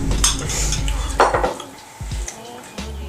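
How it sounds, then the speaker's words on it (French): A smoothie is mixed with chocolate, with a spoon or utensil clinking and scraping against a container in a few sharp, close knocks between quieter stirring. "Mélangeons le smoothie et le chocolat."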